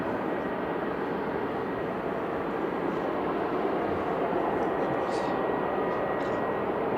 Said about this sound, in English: as it goes into night you can sort of almost hear the airport more